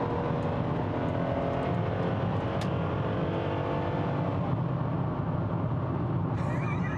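A Dodge Intrepid accelerates hard on a highway, its engine holding a steady rising drone under continuous road and wind roar, heard from inside the car.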